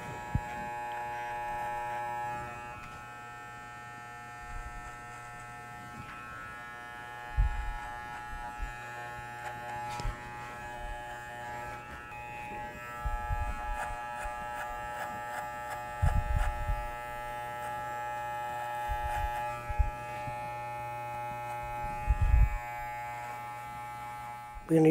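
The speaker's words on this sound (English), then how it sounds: "As you can see, the clipper's angled at 45 degrees." Electric hair clipper held at an angle while freehand tapering the neckline perimeter of a men's haircut, a steady close buzz with harmonic hum throughout, occasional low bumps and handling noises as it moves across the hair.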